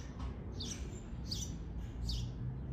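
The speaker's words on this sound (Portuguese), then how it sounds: "Tá escutando o barulho do passarinho," A small bird chirps near a house surrounded by plants and flowers, giving three short, high tweets spaced about half a second apart. The tweets are moderately close and sit above a low, steady background rumble.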